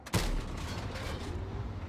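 Tank cannon fire in a video game: a sharp, loud blast at the start with a deep booming tail that rolls on, then a second impact near the end, no voices.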